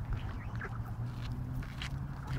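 Geese being fed acorns in the woods give a few faint, scattered honking calls over a steady low outdoor rumble, with no talking.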